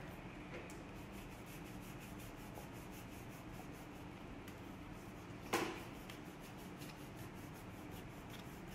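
Steady, faint rubbing of a homemade Aladdin lamp, a continuous soft scraping texture with one brief sharper scrape midway, heard alone.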